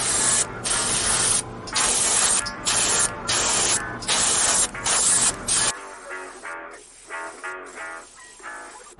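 Aerosol spray primer misted onto a miniature in repeated short bursts with brief gaps, loud and close, then a quieter stretch of softer hissing puffs and clicks.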